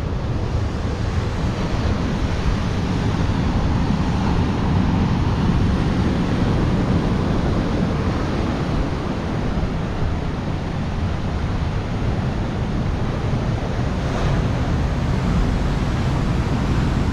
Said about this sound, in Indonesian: teman-teman bisa lihat sendiri kedahsyatan ombak pantai selatan